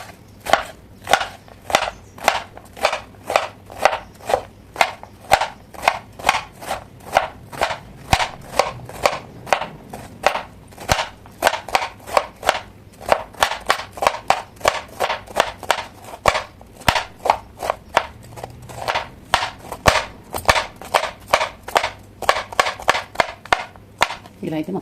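A knife chops ridge gourd on a cutting board in rapid, evenly spaced sharp knocks, dozens in a row with brief pauses, loud and close, with faint talking underneath.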